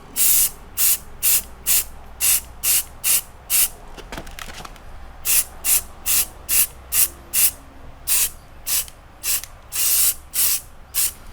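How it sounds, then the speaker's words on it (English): Automotive-grade white gloss acrylic enamel sprayed from a rattle can onto wood, heard as a long series of short, loud hissing bursts in a steady rhythm, broken by a brief pause and a faint rattle partway through. "some acrylic enamel, white gloss, automotive grade rattle can, and just spray them"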